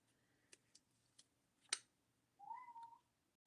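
A house cat yowls and meows at something it has spotted, a drawn-out cry near the end after a few soft ticks and taps, heard fairly close in a quiet room with no talking.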